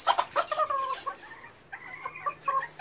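Silkie chicks in a chicken shed give short, high cheeping and clucking calls in quick bursts, close by in a quiet space.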